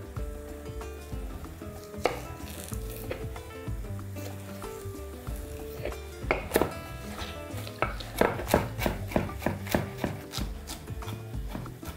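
A single celery stalk is chopped finely on a board, with sharp, quick knife strikes that grow denser into a rapid rhythmic run toward the end, close and clear over a faint sizzle of frying in the background.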